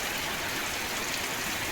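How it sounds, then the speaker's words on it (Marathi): A heavy October downpour in Chaul, Alibag, roars as a dense, unbroken hiss of rain with no distinct thunder. "असा हा धुवादार पाऊस"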